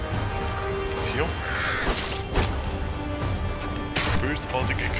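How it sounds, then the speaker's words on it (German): A crow caws harshly a few times in the video game Vikings - Wolves of Midgard, set against a dense, steady bed of game ambience and effects. "Bösartige Krähe."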